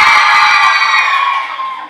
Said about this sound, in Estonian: Ja teeme nüüd ühe suure kisakoori tüdrukud!